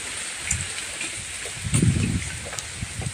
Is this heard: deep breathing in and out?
no